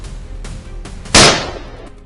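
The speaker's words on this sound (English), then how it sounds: "he opened fire" A single sharp gunshot cracks out loud and close, its echo trailing off over about a second, fired at a herd of wild boar in an open field.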